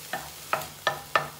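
Onions frying in a pan for chilli con carne, with four or five quick scraping stirs at a regular pace over a low sizzle, close by.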